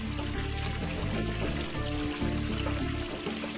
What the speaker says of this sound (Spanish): El sonido del agua refresca nuestro caminar.